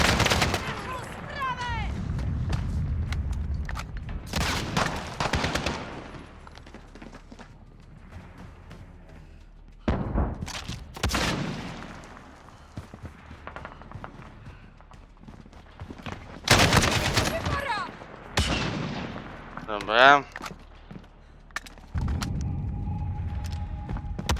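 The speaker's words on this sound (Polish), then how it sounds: "Dobry strzał, Karim!" Bursts of rapid gunfire and booms in Call of Duty: Modern Warfare (2019) alternate with excited voices and brief quiet gaps, loud and close, with a few electronic tones.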